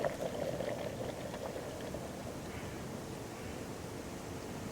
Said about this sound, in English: listening to the boiling sound like a wind rustling through the pines